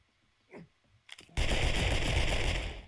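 Near the end, a sudden loud burst of continuous rapid gunfire from the zombie survival game 7 Days to Die, preceded by brief quiet handling sounds and a faint voice.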